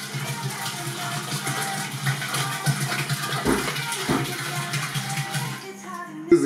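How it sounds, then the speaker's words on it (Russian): Several liters of plain tap water pour out steadily for wheat mash starter, a continuous splashing gush heard up close with no talk, easing off near the end. "Воду мы выливаем."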